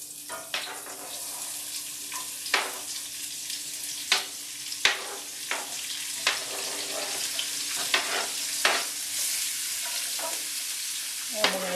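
Onions, carrots and celery stir-fried in olive oil in a pan, a steady close sizzle broken by repeated sharp scraping strokes of a utensil roughly every second, with no voices.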